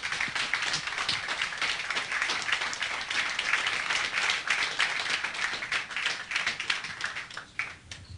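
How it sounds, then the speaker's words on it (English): An audience at a professional pool match between Efren Reyes and Earl Strickland bursts into sustained applause, many hands clapping densely and evenly for several seconds before tapering slightly at the end. "Could we please show our appreciation with an inspired bit of applause?"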